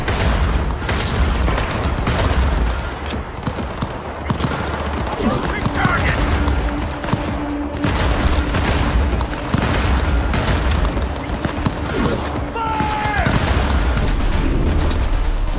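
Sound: gunfire in the video game Cyberpunk 2077

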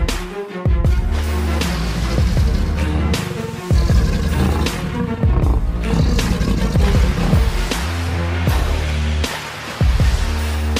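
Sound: lion roaring

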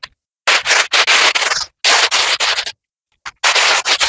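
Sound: sifting dry beans through a sieve

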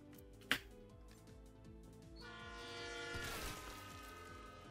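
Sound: subway train passing in Borderlands 3 video game

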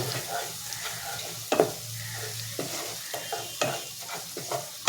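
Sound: spice paste (masala) frying and being stirred in a pan

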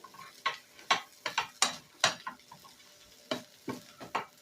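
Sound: stirring lachha with sugar and ghee in a pan

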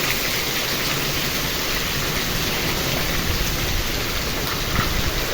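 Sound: heavy summer rain with storm and running water

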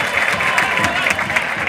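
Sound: stadium crowd applauding a football player

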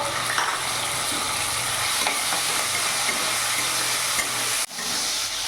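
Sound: prawns frying in hot oil

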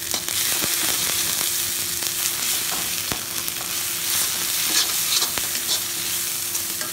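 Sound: spices and jackfruit being fried and stirred in iron wok

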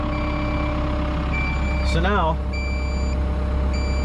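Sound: Cat 305.5E2 mini excavator quick coupler warning beeps

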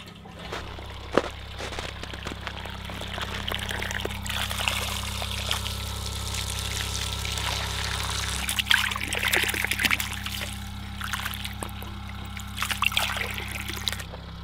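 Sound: well water running from a hose

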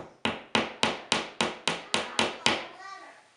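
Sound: hammer tapping picture hanger pins into wall

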